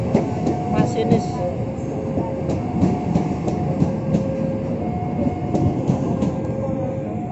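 KRL electric commuter train on the Yogyakarta–Solo line rolling past a level crossing, a close continuous rumble with repeated wheel clacks and a faint steady tone, with voices briefly in the background.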